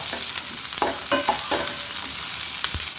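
Onions softening in a hot pan make a steady close sizzle, broken by several short stirring scrapes and clatters.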